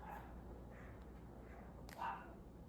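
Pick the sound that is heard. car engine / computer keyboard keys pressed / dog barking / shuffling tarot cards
dog barking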